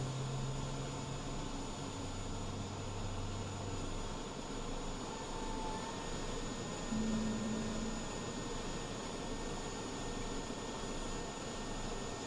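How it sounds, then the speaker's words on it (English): An Airbus jet engine spooling up in Microsoft Flight Simulator gives a faint, steady whine over a low hum, with a few brief tonal shifts and no voices. "So now I can hear the engine starting."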